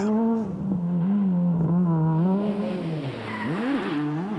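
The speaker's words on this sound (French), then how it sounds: "va perdre toute chance de podium sur ce freinage manqué avec des pneus un peu trop froids" A Renault rally car skidding hard through a missed braking on cold tyres at Rallye Ciocco 2006, a loud sustained tire squeal with wavering pitch over engine roar, close, sliding and rising sharply near the end, no talk.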